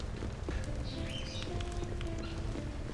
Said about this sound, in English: This is where the bird sound is coming from.